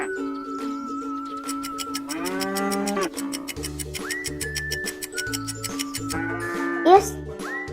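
A cow moos several times, loud and close, over a cheerful music background with high tinkling notes.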